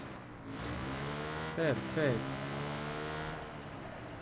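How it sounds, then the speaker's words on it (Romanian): A turbo ATV engine in Watch Dogs 2 drones steadily up close, a continuous motor hum with a short spoken word rising briefly over it. "Și plec cu ATV-ul. ATV cu turbo."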